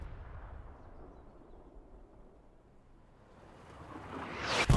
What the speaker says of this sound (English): Good artillery shots.